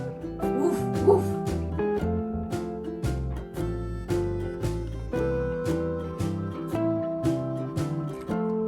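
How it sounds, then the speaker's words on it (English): Dog barking on a farm: a few short barks and yips early on, heard over steady, bouncy background music that continues throughout. "Dog! Woof, woof,"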